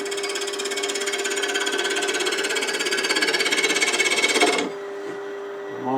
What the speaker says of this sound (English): So I'm going to do most of the shaping with the spindle roughing gouge.